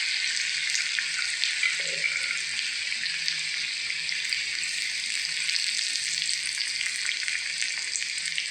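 Onion frying in oil with garlic and curry leaves for Khandeshi shev bhaji, a steady, hissing, close sizzle throughout with a few faint stirring taps and no speech.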